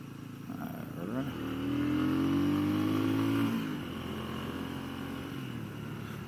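A Genuine G400C motorcycle engine rumbles nearby, its exhaust note rising as it revs, holding for a couple of seconds, then settling back to a low idle.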